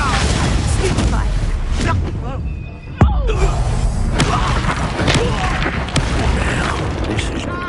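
Bombarda explosive spell blasts in Hogwarts Legacy, heavy booms and crashes amid combat noise, with one sharp loud impact partway through and voices talking throughout.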